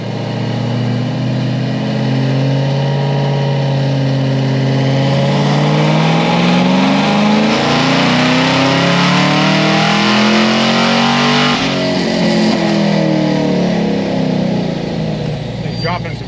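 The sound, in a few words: car engine revving during a dyno pull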